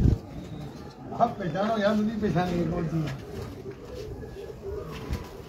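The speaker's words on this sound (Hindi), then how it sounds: "बहुत अच्छी कबूतरी है," Pigeons cooing softly in a loft, low throaty coos under someone talking in Hindi close by.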